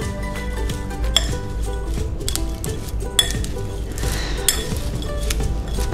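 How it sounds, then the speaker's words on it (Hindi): Crispy noodles and vegetables for Chinese bhel are tossed in a bowl, giving clinks and scrapes of utensils against the dish with occasional sharper knocks, close and moderately loud. "अब अपन इसको हल्के से मिक्स करेंगे।"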